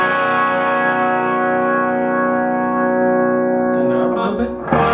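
Washburn N4 electric guitar on its bridge humbucker with a lower-gain tone, one sustained chord ringing loud and steady for about four seconds before a brief scrape and a fresh strum at the end.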